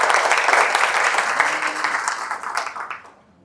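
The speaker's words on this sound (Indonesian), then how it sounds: "Kita tepuk tangan dulu." An audience of duck farmers claps in steady, dense applause that holds strong for about three seconds before quickly fading away.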